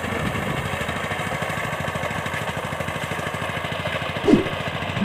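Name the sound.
reaper binder wheat crop cutting machine engine running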